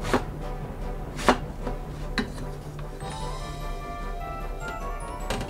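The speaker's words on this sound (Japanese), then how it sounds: "おネギも切ります。" A kitchen knife chops spring onion on a board, giving a few spaced, crisp strikes followed by quieter rustling and scraping nearby.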